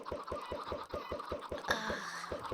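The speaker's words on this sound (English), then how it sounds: "last batch of chickens and then out and then we're good" Minecraft chickens cluck in a steady, fast run of short repeated calls at low volume, with a brief brighter game sound midway and no talk over them.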